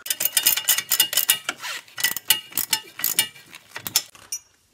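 Bolts on caster/camber plates of a Ford Mustang are tightened with a ratchet, producing rapid, close metallic clicking in uneven bursts for several seconds with no talk.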